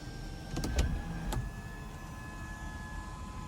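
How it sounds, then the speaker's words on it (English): Power sunroof and sliding shade in a 2020 BMW M340i open with a steady, quiet electric motor whir inside the cabin, starting with a few faint clicks and running smoothly throughout. "And then we have a shaded power sunroof here."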